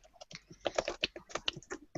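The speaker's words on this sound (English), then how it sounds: "You're typing." Keys clatter on a computer keyboard in quick irregular bursts, crisp, close clicks spaced unevenly across two seconds with no talk over them.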